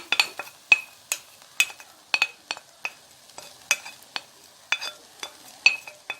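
Grated onion is added to cooking peas and stirred in a pan. A utensil scrapes and clinks against the pan in quick, irregular strokes, close and fairly crisp, with a light sizzle underneath.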